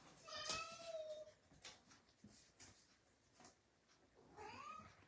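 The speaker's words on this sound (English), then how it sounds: "Well, hi, cat." A cat meows a few times, short faint calls close by amid quiet rustling and soft handling noises while someone works on a craft project.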